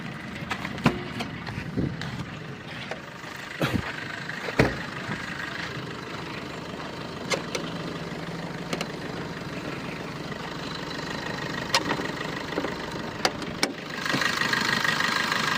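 A 2016 Maruti Suzuki Vitara Brezza diesel engine idling with a low, steady rumble, punctuated by several sharp clicks and knocks; the hum grows louder near the end.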